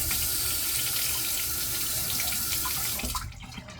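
Tap water runs steadily while a razor is rinsed between shaving passes, a continuous close splashing stream that cuts off sharply near the end.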